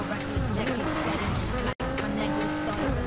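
A Polestar 1 drifts in the racing game Need for Speed Heat, its engine droning under sustained tire squeal that wavers in pitch, broken by a brief dropout midway.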